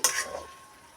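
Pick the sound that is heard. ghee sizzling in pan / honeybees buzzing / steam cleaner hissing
ghee sizzling in pan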